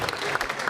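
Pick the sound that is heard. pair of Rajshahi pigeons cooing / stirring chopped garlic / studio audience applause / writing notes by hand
studio audience applause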